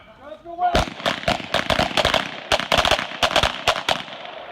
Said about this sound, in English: All right, shooter, stand by. 3 shots.